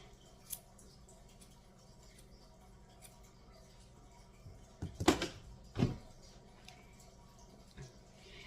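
Scissors snip hair at home in a few short, close cuts around the middle, quiet against a soft room background with no talking.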